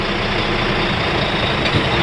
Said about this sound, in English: I'm listening for the air to equalize